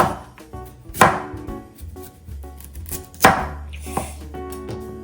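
A knife chops carrot on a board, landing two sharp, heavy cuts among lighter, quieter strokes.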